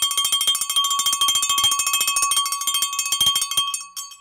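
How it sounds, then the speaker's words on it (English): Small bicycle-style bell rung rapidly and repeatedly in a bright, close, insistent trill for about four seconds before trailing off, heard alone. "I do think we need to break out the bell one more time or two"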